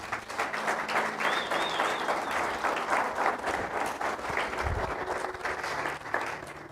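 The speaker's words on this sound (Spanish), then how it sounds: "Dale un aplauso al Señor." Sustained applause from a crowd, dense steady clapping filling the whole stretch at an even, loud level with no talking.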